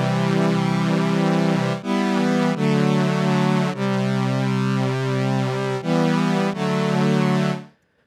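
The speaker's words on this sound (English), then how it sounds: "So it's a very simple chord progression." Virtual instrument in Cubase plays a simple chord progression from a recorded MIDI part: about six sustained chords, each held a second or more and changing cleanly, ending with a quick fade.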